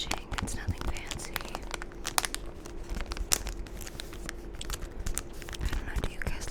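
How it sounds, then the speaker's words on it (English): Thin plastic packaging around a small pendant box crinkles and crackles in quick, irregular bursts, close and soft, with faint whispery movement between the sharp snaps. "do you guys like crinkle sounds?"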